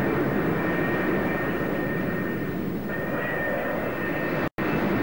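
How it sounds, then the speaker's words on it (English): F-4 Phantom jets taxi on an aircraft carrier flight deck, their engines roaring loud and steady with a high whine running over the deep rumble, cut by one brief gap near the end. "another pair of Phantoms taxis up for launch"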